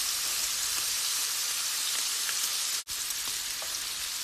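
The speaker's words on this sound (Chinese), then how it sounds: "放一些黄油，待油热了，把虾放进去，稍微煸炒一下，" Shrimp sizzle in hot butter in a pan: a constant, even hiss of frying, briefly cut off for a moment partway through, with no speech.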